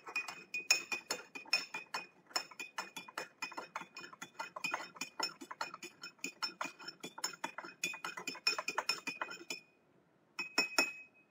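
Spoon stirring hibiscus herbal tea in a glass, a fast, steady run of bright clinks against the rim, close and clear, pausing briefly before a final few taps.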